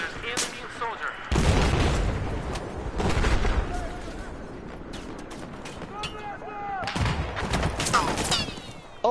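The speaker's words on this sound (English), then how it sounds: "Oh, I got a grenade kill." Battlefield 4 combat with booming explosions and bursts of gunfire, heavy blasts rising and falling amid constant shooting while a player talks over it.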